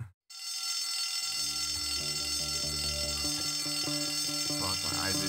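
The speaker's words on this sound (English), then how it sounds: "If anyone saw who pulled the fire alarm, please come to the" A school fire alarm in Bully: Scholarship Edition rings loudly and without a break after a brief silent gap, with low game sounds and a voice faintly underneath.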